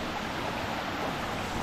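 Flood water spilling over into a rice paddy, a continuous broadband rushing and gurgling like a strong stream, close and steady for a brief moment with no talk over it.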